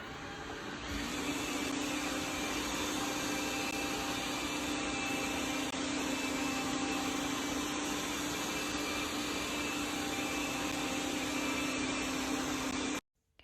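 Thamtu G11 robot vacuum cleaner running in spot cleaning mode, a steady loud whirring motor drone with a constant tonal hum, continuous for about twelve seconds before cutting off abruptly.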